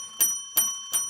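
A bell rings three times in an even rhythm, each bright, ringing strike fading before the next, close and clear with no talking.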